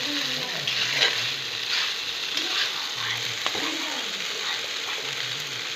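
Chowmein tossed into frying onions in a pan, an even, dense sizzle running throughout, close and steady with faint stirring scrapes.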